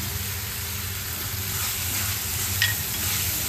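Tomato masala sizzles steadily in a pan as two spoons of red chilli powder go in, a close, constant frying hiss with a brief soft clink near the end and no talk.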